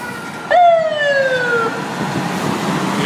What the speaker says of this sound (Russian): Неожиданно выезд пожарной машины.